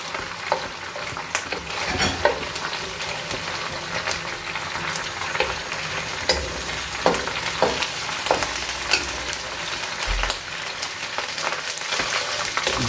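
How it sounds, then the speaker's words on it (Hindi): Ginger and garlic paste fries in a pan for chicken rezala, a steady close sizzle running throughout with scattered scraping and stirring clicks and no talking. "अब हम इसमें अदरक का पेस्ट डाल देंगे और फिर इसको भून लेंगे।"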